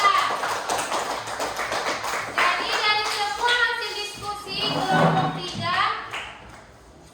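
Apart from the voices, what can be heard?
classroom applause for group 3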